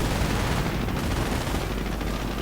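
Dense machine gun fire from an MG 42 in a World War II game battle between US and Wehrmacht forces, a loud continuous roar of rapid overlapping bursts with no talking.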